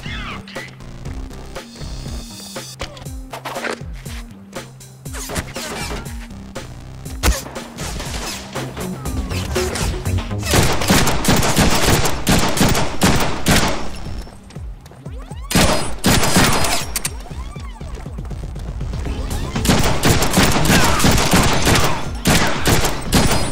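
Gunfire in the Deadpool video game: dense, loud bursts of shots and crashes that build and keep going for the whole stretch, layered over game music and effects.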